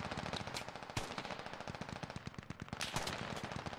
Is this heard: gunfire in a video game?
yes